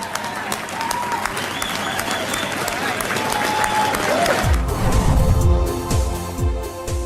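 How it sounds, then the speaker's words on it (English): A crowd applauds and cheers for the builders of Boston's Big Dig tunnel at its opening, sustained clapping with whistles that gives way to a low rumble and music toward the end. "Let's give them the round of applause that they deserve for building this project."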